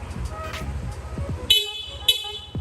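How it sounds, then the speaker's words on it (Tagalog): Stock horn on a Yamaha Aerox 155 V2 scooter giving two short, sharp beeps close by, following a stretch of background engine rumble and faint voices. "Pure stock po na busina yan."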